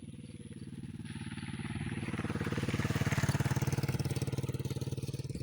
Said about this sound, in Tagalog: may motor na lumaan